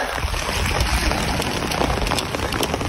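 Rain falling steadily outdoors on a stormy day while fishing under an umbrella, giving a dense, even hiss of close patter and scattered drops with no let-up.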